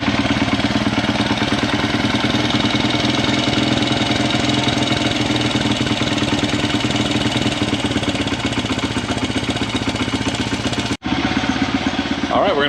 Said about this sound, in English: the idle's pretty high, so we're gonna go ahead and adjust the idle down